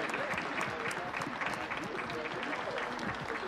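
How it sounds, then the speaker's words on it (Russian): Applause from gentlemen at a World War I era gathering in a period drama, continuous clapping from a group with voices murmuring beneath it throughout. "Аплодируем, господа."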